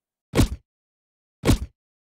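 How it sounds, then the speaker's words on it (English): Two short, identical zippy whooshes of a magic cast layer for a Diablo IV-style spell, played dry without effects, each a quick bright burst separated by about a second of silence. "A zippy sound, using the same source again"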